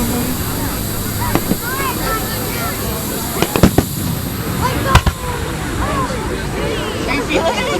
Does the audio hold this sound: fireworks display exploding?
yes